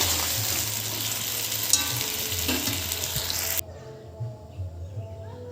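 Salted potatoes sizzle loudly in hot oil with repeated scraping stirs, the sizzle dropping abruptly to a quieter crackle partway through.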